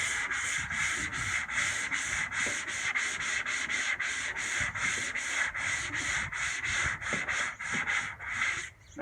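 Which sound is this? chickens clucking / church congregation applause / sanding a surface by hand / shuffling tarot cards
sanding a surface by hand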